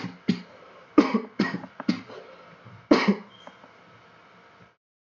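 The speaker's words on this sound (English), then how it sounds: "Had to mute my mic and cough for a quick second." A person coughs and clears their throat in a series of sharp, close bursts, about seven separate coughs spread over several seconds and then silence.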